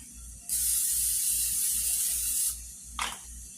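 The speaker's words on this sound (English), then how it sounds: "I'm going to spray it with the extra virgin olive oil" Extra virgin olive oil cooking spray hisses continuously into a pan for about two seconds, followed by a short second burst, over a low rhythmic hum.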